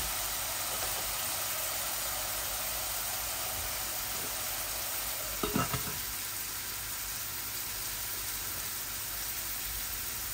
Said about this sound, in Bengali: চপটা রান্না করতেছি। অল্প একটু কাবিজ দিব সাথে